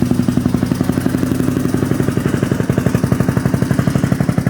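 A Yamaha Raptor 660 ATV engine idles steadily and close by, with a fast, even chugging pulse that runs without a break and has a clattery mechanical edge. There is no talking.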